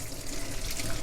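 Tap water runs steadily into a sink as a cloth is rinsed under it, a continuous close splashing wash of water that holds throughout with no speech.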